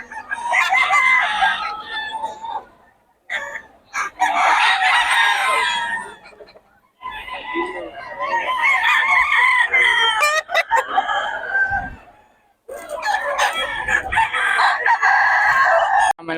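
Several roosters crow in long, loud calls one after another, with short pauses between, fairly close by.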